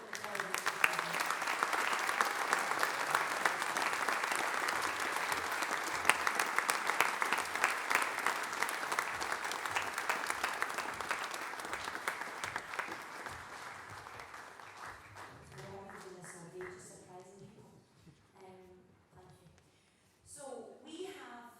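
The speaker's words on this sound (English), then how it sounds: "offer them a huge round of applause" Audience applause at a youth brass band awards event in Scotland, a long sustained ovation filling the hall that gradually fades out, with a presenter's voice emerging as it dies away.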